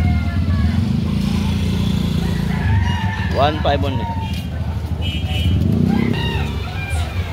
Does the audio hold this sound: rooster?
yes